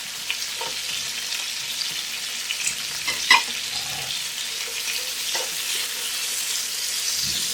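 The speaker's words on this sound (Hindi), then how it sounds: "इन सबको हल्का सा सॉटे करेंगे" Onions and aromatics for a Punjabi chicken curry gently sauté in a pan over medium flame, a soft steady sizzle with occasional spoon scrapes and stirring clinks, no voices.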